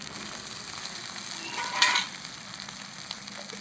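Peas and tomatoes frying in a pan with cabbage for a fish-head cabbage curry, a steady close sizzle with a brief louder crackle as they are stirred in.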